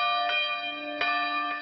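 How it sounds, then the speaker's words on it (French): A church bell tolls with rich, lingering resonance, struck a few times in slow succession, loud and ringing out with no voices. "Cloche matinale pour réveiller les 2000 habitants de Béruges."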